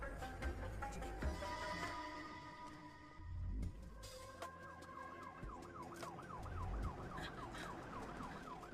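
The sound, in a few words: ambulance siren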